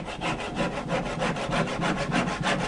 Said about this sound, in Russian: Так, и пробуем разрезать вначале пополам.